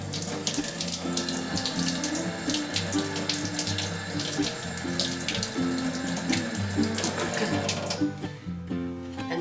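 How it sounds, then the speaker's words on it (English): Tap water runs steadily into a sink while gold and platinum jewelry is rinsed, a continuous splashing rush under faint music that cuts off near the end. "Then rinse as we did before."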